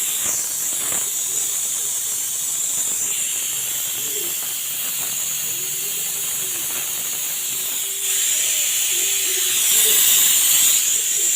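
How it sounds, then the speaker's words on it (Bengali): A pressure cooker whistle on a kitchen stove releases steam in a loud, continuous high hiss that holds steady and grows stronger toward the end, with faint background sounds beneath. "সিটি উঠবে, আপনারা চুপ থাকুন। সিটি উঠে গেছে।"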